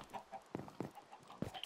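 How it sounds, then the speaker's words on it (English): A few soft, rhythmic clucks from a chicken in Minecraft, spaced about a quarter second apart, faint and close with light game background. "This chicken's looking at me like I'm eating its own kind."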